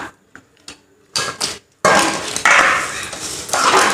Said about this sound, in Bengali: একটু নাড়াচাড়া তো খাস্তা হয়েছে কি আওয়াজ না